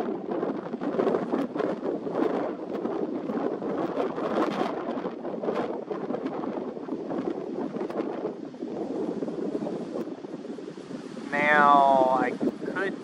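Wind blowing across a camera microphone outdoors on Harriets Bluff Road, a steady low rumbling buffet throughout, with a brief high chirping bird call rising near the end.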